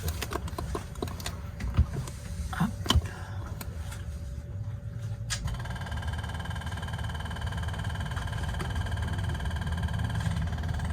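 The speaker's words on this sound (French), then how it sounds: "J'allume le générateur" A generator aboard a sailboat starts up after some clicks and knocks, then settles into a steady low mechanical hum that runs on to the end.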